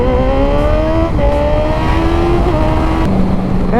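A motorcycle engine hums steadily as the bike is ridden along a highway, with sustained tones that drift slightly in pitch and then drop lower near the end. The sound is loud, close and continuous, with no talking.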